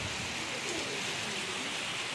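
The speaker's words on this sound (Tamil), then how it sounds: "சரியான மழை நீங்கள் பாருங்கள் மழை சத்தம் கேட்குதா உங்களுக்கு" Heavy rain pours at night in Velachery, Chennai, a steady, uniform hiss of rainfall with no voices heard.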